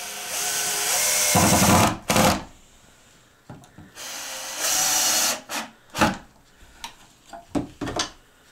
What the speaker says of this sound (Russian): сейчас пилю, как и говорил, что вот эти вот у меня бруски